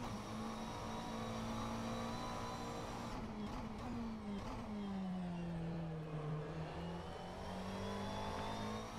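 McLaren 720S GT3 race car engine at Sebring in rFactor 2, a steady sustained drone with the pitch dipping and rising through gear changes, moderately loud and continuous with no talk.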